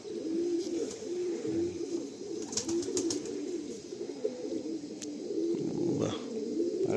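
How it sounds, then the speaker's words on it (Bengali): Madrasi pigeons coo continuously in soft, low, rolling phrases close by, with a brief exclamation from a voice and faint handling noises. "পায়রা এত ছটফটে, আমি সাধারণত ধরি না পায়রা।"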